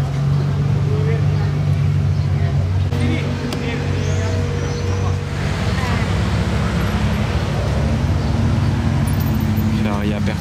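A Ferrari Aperta sports car passing during a Ferrari cavalcade at Place du Casino in Monaco, its engine rumbling steadily amid loud street crowd noise and nearby chatter, sustained without a sharp peak.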